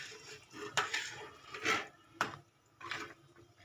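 A spoon scrapes and knocks against a pot while chicken soup is stirred, giving several distinct clinks and rubbing strokes at an uneven pace, close up and fairly quiet, with no talking.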